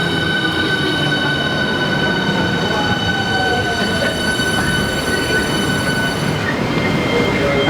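Steady rumble of a train in motion, with a constant whine and rolling wheel noise carrying on without a break.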